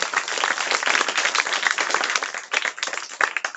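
Dense, enthusiastic audience clapping rings out for a singer after a devotional performance, a busy continuous patter of many hands.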